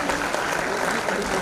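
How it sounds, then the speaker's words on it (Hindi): Dense, steady audience applause for a prize-winning runner-up at an award ceremony, loud and close, filling the whole short stretch with sustained clapping. "जोरदार तालियां प्लीज बजाते रहिए।"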